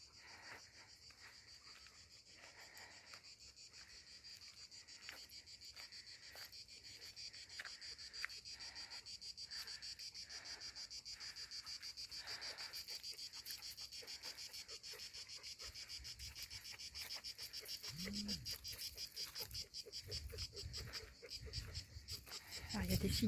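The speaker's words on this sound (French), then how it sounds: "avec le bruit des cigales" Cicadas sing on a wild stony path in the Estérel, a faint, steady high-pitched buzzing drone with panting and footsteps nearby and brief talk near the end.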